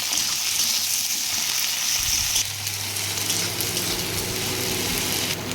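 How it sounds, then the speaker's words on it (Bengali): Chopped tomatoes fry with onions in a pan for a fish dish, making a constant close sizzle that softens and settles partway through as the frying goes on. "পেঁয়াজ ভাজা হয়ে গেলে তার মধ্যে টমেটো কুচি দিয়ে ভালো করে ভেজে নেব।"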